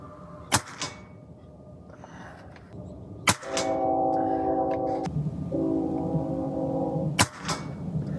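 An AEA Element PCP airgun, a very light rifle, fires three sharp, isolated cracks several seconds apart, loud and close, with a faint whirring hum between shots.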